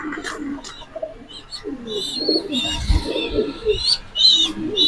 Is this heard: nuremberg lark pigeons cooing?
yes